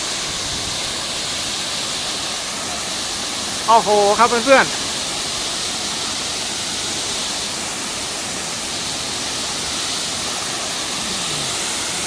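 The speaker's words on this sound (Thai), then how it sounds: "น้ำตกมาจากหน้าผานะครับ" Khlong Lan waterfall in Kamphaeng Phet pouring off a cliff face, a steady, loud, broadband rush of falling water filling the whole stretch, with a man briefly exclaiming in the middle.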